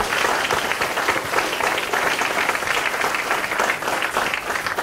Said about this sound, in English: So let's really give Bill another round of applause for today.